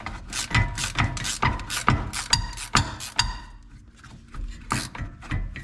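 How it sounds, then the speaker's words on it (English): A ratcheting wrench clicks in quick, irregular bursts as it works a stubborn bolt loose on a 1995 Jeep Wrangler, with a short pause near the middle before the clicking resumes up close. "And ratcheting wrench."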